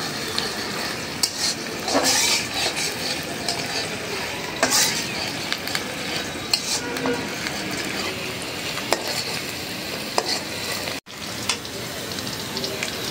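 Close, loud sizzling of onions frying in a pan with repeated scraping and stirring clatter from a utensil, continuous hiss throughout.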